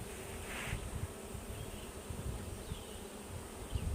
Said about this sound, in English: this is a lot of bees, right?